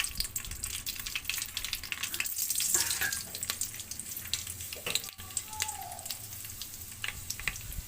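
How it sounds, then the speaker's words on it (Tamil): Fenugreek seeds splutter in hot oil, a steady crackling sizzle with scattered sharp pops and a few clinks, close and fairly quiet, with no talk. "இப்போ வெந்தயம் பொரிஞ்சிச்சு"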